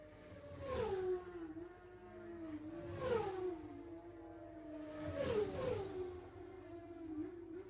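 Road racing motorcycles at the Armoy Road Races scream past one after another in three distinct pass-bys, each whine rising then dropping in pitch as it sweeps close and fades, with engine drone continuing between passes.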